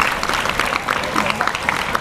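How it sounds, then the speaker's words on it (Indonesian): Applause at a school morning assembly, a steady wash of clapping from a large group of students, dense and continuous with some voices mixed in. "Beri tepuk tangan dulu."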